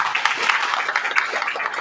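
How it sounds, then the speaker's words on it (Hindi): Audience at a public gathering breaks into a short burst of dense, steady hand clapping, loud and close, with no pauses throughout. "एक बार जोरदार ताली चाहूंगा।"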